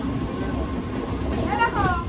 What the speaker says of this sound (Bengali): এক্সপ্রেসের আগে লোকাল যাচ্ছে